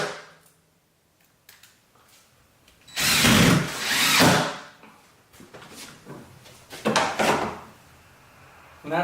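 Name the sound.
power drill driving screws into a window frame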